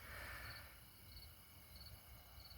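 Crickets chirping at night in a driveway, faint pulsing chirps repeating at a steady rhythm in the distance against quiet background hum.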